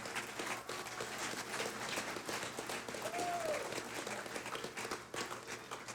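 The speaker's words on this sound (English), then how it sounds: "Please join me in a round of applause for all our Outstanding First Sergeant of the Year nominees" Sustained audience applause fills a military awards ceremony for the 154th Wing's First Sergeant of the Year nominees, a dense, steady wash of many hands clapping at even loudness from start to finish.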